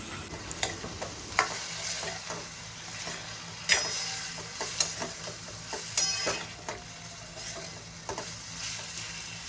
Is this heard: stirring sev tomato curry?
yes